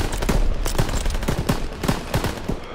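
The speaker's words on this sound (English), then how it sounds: "MGs, open fire." Machine guns fire in the Call of Duty WW2 video game, loud rapid bursts of gunshots close by, overlapping in a sustained fusillade with battle noise beneath.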